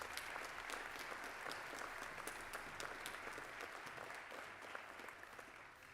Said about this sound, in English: Please give a round of applause to our National Service Leadership Track graduates.